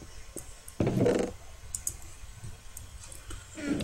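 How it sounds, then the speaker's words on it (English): Quiet computer mouse clicks during Minecraft play, a few brief sharp clicks spaced out over a soft background, with one louder burst early on. "But you're gonna hear my clicking"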